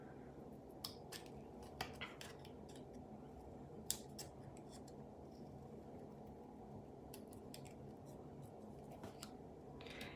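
Scissors snip through paper in a quiet room, a series of crisp, close cuts at an irregular pace over a low background hum, one snip louder than the rest.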